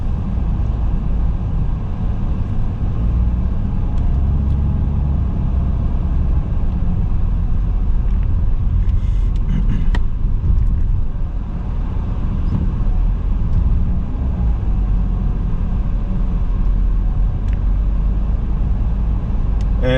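Steady low engine drone and road rumble inside a Peugeot 407 driving through Bucharest, a continuous hum with faint ticks and creaks, no voices over it.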